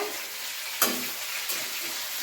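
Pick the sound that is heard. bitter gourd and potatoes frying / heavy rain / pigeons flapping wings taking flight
bitter gourd and potatoes frying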